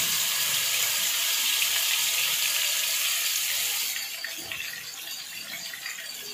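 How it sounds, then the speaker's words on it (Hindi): Marinated chicken tikka pieces hit hot oil in a pan, giving a loud, steady, hissing sizzle that eases to a softer crackle partway through, with no talking. "अब ये सारा हम चिकन जो है इसके अंदर डाल देंगे।"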